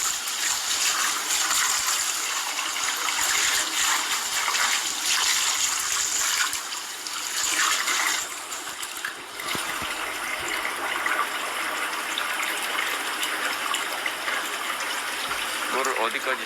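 Tap water pours into a fryer's tank during cleaning, a steady rushing splash close by that thins briefly partway through, with a voice talking over it.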